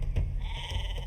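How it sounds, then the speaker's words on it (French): Sheep in a video game bleat softly a few times in a short, faint burst of wavering calls with no talking over them. "Des moutons! Ils sont beaux les moutons."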